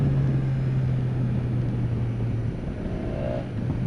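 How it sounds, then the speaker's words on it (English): BMW S1000XR motorcycle riding on a rough road, its exhaust note a steady loud drone with a low held engine tone and continuous road and wind rumble, with no talk. "just listen to that exhaust note"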